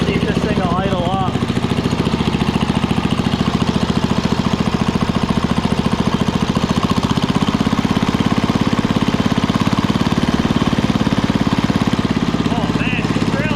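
A small engine, just repaired after a no-spark magneto fault, idles steadily and loudly throughout with an even, rapid chugging rhythm.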